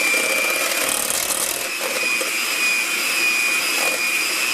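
A two-speed Osterizer blender runs at a steady, loud, high whirring roar without pause, with no voices over it.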